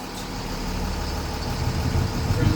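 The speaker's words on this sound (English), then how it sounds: "Hear the change in the engine tone." A school bus diesel engine idles with a steady low rumble, growing slightly louder and rougher toward the end.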